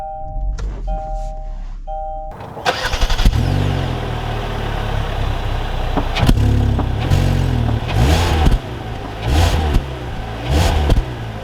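A 2021 Kia Soul GT-Line starts off with a few chimes, then its engine rises and accelerates close by, with a rumbling drone that swells repeatedly and thumps over the road, and no talking.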